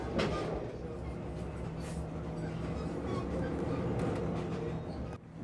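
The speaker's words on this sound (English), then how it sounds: "that's probably why the train is slowing down" A train slowing down on tracks in Alaska gives a steady rumbling noise with rattling wheels on rails, continuous and fairly loud, a low drone holding throughout with faint voices in the background.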